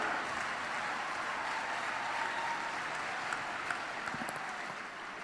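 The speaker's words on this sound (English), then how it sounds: "a huge thanks to my entire panel for the day, a huge clap." Sustained applause from a conference audience thanking a panel at a research, innovation and entrepreneurship event, a broad even wash of clapping that holds steady and fades slightly at the end, with a few sharper claps near the close.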